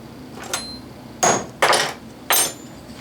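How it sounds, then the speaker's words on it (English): Three to four sharp hammer blows strike a center punch on metal while a boy's model steam engine is built, a light tap followed by three louder evenly spaced knocks in a quiet workshop. "take a center punch and punch those"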